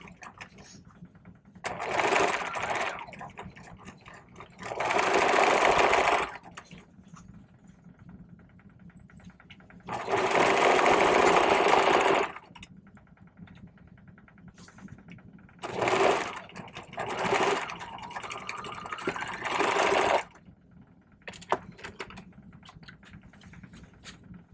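A serger sewing machine stitches the side seams of a garment, running in several loud whirring bursts of a few seconds each with quiet pauses between them.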